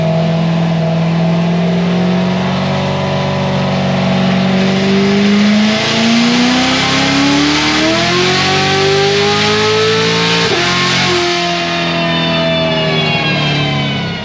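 Cammed C7 Corvette Z06 with a ported supercharger accelerates hard through the gears, a loud close engine wail climbing steadily in pitch, then a shift and a renewed climb.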